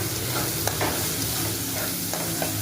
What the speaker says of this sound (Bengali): এর মধ্যে দিয়েছি পেঁয়াজ তেজপাতা গরম মশলা জিরে গোটা জিরে তারপরে এটাকে নাড়াচাড়া করে